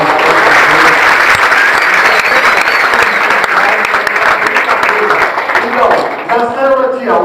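Dense, sustained applause from a large audience at an evangelical church congress in Santa Catarina fills the whole stretch, loud and steady, with crowd voices and cheering mixed in and tapering slightly near the end.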